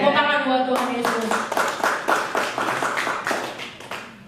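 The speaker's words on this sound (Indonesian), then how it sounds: "Tepuk tangan buat Tuhan Yesus." Applause at a church prayer service rises after a harmonic voice fades, a burst of hand claps building into steady clapping at close range.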